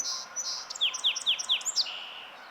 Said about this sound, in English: The pileated begins calling forcefully and follows the flicker, warning him off, then returns to his nest tree.